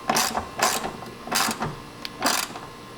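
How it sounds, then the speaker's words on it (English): Ratchet tightening the top bolt of a brake light on a 10th-gen Honda Civic Si, heard as four quick bursts of clicking, close and fairly loud, with short pauses between them. "We'll go ahead and tighten the top one back up completely."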